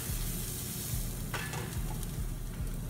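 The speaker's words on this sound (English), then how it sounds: "We're gonna start by putting some onions into the pan. Get those going. Wanna sweat those down a little bit." Onions sweat in a pan with a constant close sizzle, joined by a few light stirring scrapes partway through, with no one speaking.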